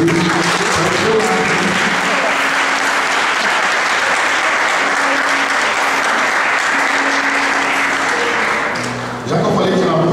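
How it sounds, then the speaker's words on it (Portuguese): A church congregation claps loudly and continuously during a sermon, a thick wash of applause from many hands lasting about nine seconds before it breaks off and a voice begins. "Dá só um aplauso aí ao Senhor Jesus."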